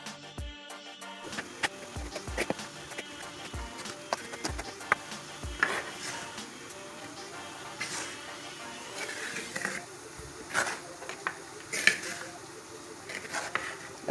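Couscous mixture being stirred in a pot, with repeated scraping and knocking of a utensil against the pot in an irregular rhythm, close and fairly quiet, no talking.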